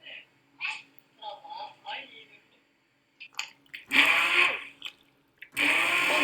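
A person talks quietly, then a blender roars in two loud bursts, whirring through thick soup.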